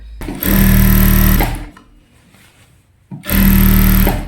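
An electric sewing machine stitches old saree fabric into a full-circle gown in two loud, steady whirring bursts, separated by a short quiet pause.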